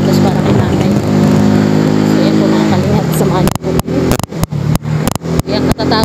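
A repaired motorcycle engine runs loudly and steadily, then breaks into a series of short revs separated by brief drops, close to the listener.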